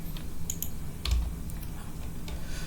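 Several light, scattered keystrokes on a computer keyboard, close by in a quiet room, as a localhost address is typed into a browser.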